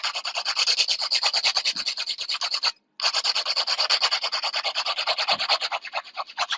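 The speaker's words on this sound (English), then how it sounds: "I'm gonna use a very worn out hand filer, and I'm just gonna hand file." A very worn hand file rasps across acrylic nails in a steady, rapid back-and-forth rhythm, close and continuous apart from one brief pause, with no talking.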